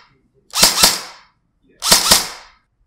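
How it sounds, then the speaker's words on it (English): A polymer Tippmann Commando Carbine paintball gun fires on semi-auto: two close pairs of sharp, punchy thumps about a second apart, with no talking. "Let's start off with semi, do a few shots."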